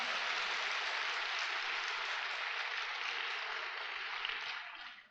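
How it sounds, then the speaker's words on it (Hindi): An indoor audience at a corporate experience-sharing event claps loudly and continuously for several seconds, a dense wash of applause that thins and fades out at the end. "लंबी गहरी सांस लीजिए और अपने पार्टनर के लिए एक बार जोरदार ताली बजाइए"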